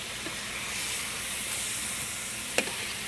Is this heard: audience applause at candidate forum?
no